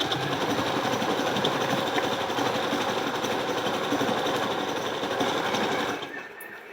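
Sewing machine stitching the side seam of a blouse, a steady dense mechanical whir running evenly close-up for about six seconds before stopping, with no voices.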